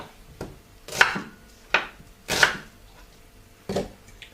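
Knife chopping tomato on a board for a curry sauce, about six sharp, separate close thuds with pauses between, with no talk.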